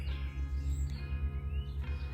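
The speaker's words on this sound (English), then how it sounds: "We have some baby birdies in the birdhouse right now" Baby birds chirping inside a farmhouse-style birdhouse, high faint tweets over a steady low rumbling background, continuous throughout.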